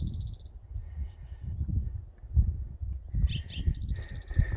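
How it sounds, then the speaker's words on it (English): Bright, high bird calls in short bursts at the start and end, over a low rumbling outdoor background at Scotts Bluff, Nebraska. "We saw the bird that's making all the noise."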